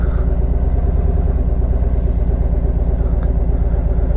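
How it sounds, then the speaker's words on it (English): A motorcycle engine idling steadily at about 1,000 RPM in first gear while riding slowly uphill, a close, even, loud low rumble that continues without letup. "I'm just idling slightly uphill."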